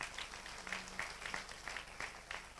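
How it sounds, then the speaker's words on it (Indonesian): A church congregation claps for God during an Indonesian sermon, a soft, fairly distant patter of applause with periodic louder swells under faint room noise. "Beri tepuk tangan bagi Allah kita."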